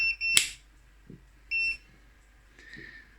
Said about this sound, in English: once the soy milk has finished, it starts this beeping